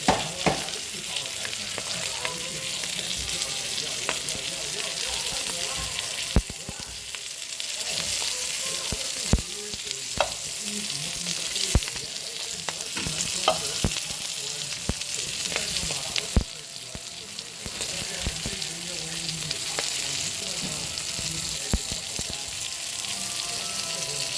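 Longanisa and hotdogs sizzle steadily in a pan, a dense broadband frying hiss with occasional clicks and stirring scrapes, with no talking.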